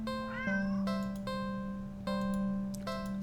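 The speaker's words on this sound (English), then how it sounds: "it is a cat" A black cat in a video game gives drawn-out, tonal meows over a steady sustained hum that sounds like game music, with no talking.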